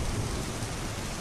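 Heavy rain pours in a dense, steady roar, with a low rumble of thunder underneath, loud and continuous with no voices.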